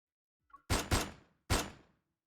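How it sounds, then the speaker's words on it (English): Three loud, sharp gunshots crack through an empty reception hall in a video game, two in quick succession and a third after a short pause, each followed by a brief echoing tail, preceded by a faint click. "A gunshot explodes in the empty reception hall."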